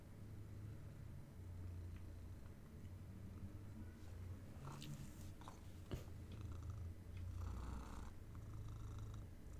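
A pet cat purrs softly and steadily in a quiet room, a low continuous rumble with faint rustles and clicks around it.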